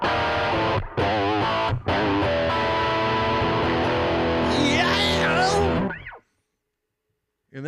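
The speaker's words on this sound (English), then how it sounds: "And then, of course, you got some good old square wave distortion." Electric guitar through fuzzy square-wave distortion on a Line 6 POD Express amp modeler, buzzy sustained chords with a couple of short breaks and squealing high notes near the end before cutting to silence.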